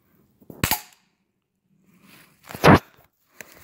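Two sharp pellet rifle shots crack outdoors in the woods, a second or two apart, each a short snappy report with a brief tail, the second one louder; a faint rustle comes at the end.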